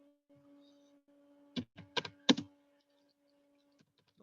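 Typing on a computer keyboard: a short, close burst of several clicky keystrokes in the middle, set against a quiet, steady electrical hum.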